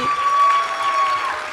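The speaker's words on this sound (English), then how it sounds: "Can we please have a gigantic round of applause for Janhvi?" Studio audience applause for an actress guest on a talk show, a moderate steady patter of clapping with a thin sustained tone running through it and no clear speech.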